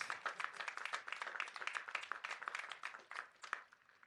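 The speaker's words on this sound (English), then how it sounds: "That deserves some applause." Applause from graduates and guests at a business college commencement ceremony, fairly quiet but dense, with distinct handclaps pulsing steadily for about four seconds before thinning slightly.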